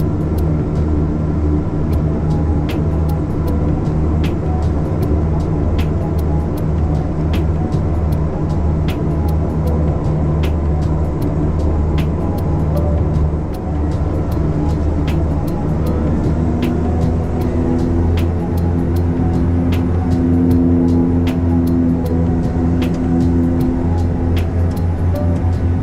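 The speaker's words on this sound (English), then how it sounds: "We taxied to runway 12 via Hotel, Bravo, Alpha and Alpha 5." Steady engine drone and rumble inside the cabin of a small FlyPelican airliner taxiing to runway 12 at Newcastle, a continuous loud hum with faint ticks and no talking.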